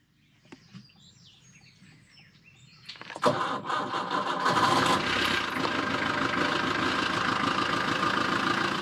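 A boat engine cranks and catches after a few quiet seconds with birds chirping, then settles into a loud, steady running rumble nearby.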